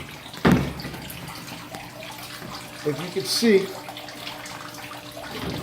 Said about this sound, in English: how the water gets trapped and sucks down and collects the air forces all the water down to about this point